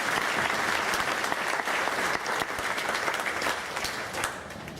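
Sustained applause from a Hall of Fame induction ceremony audience honoring two musicians, a dense steady wash of clapping filling the room throughout, slightly easing toward the end, with no voices standing out.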